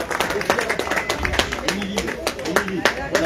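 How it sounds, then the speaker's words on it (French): Audience clapping at a cyclo-cross podium ceremony in Oraison, a steady patter of many hands at moderate distance, continuing for a few seconds beneath an announcer's voice. "Des applaudissements pour Émilie Giraud."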